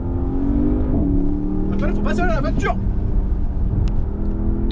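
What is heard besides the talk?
Porsche Panamera GTS engine revving while driving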